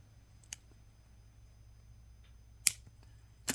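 Scissors snip through beading wire while finishing a crystal earring, giving a few sharp, isolated clicks spaced apart against a quiet background.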